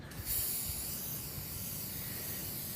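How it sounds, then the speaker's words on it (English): White contrast spray from an aerosol can hisses onto a metal piece in one continuous, close, steady burst, with no talking. "So now I'm spraying the piece of metal with the white contrast spray."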